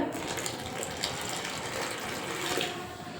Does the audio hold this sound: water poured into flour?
yes